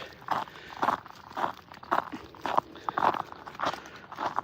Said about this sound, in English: This crunchy, crispy snow is like so satisfying to walk in.